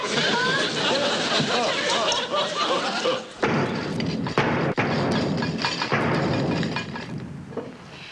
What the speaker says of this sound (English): There goes Uncle Herman with that pounding again